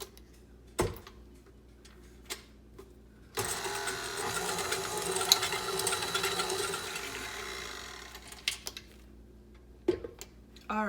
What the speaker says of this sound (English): And I'm gonna whisk this until it is stiff peaks,